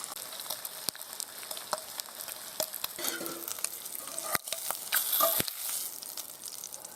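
Bacon and eggs sizzle in a pan at a motorcycle campsite, a steady crackling fry with scattered sharp pops and spits, fairly quiet and close, with no talking.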